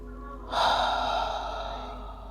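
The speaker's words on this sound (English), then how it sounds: "Take a couple deep inhales and exhale through the mouth." During a vinyasa yoga flow, one deep breath is drawn and released through the mouth, a close, soft, airy rush lasting nearly two seconds, with no talking.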